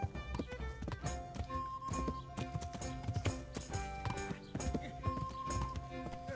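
A horse's hooves clip-clop in a steady walking rhythm in the video game Kingdom Come: Deliverance, up close over sustained tonal background sounds.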